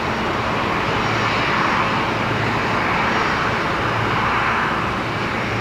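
A Qantas jet, flight 559 to Sydney, rolling for takeoff at Brisbane Airport, giving a loud, constant broadband engine roar that stays level across the whole stretch, with no voices.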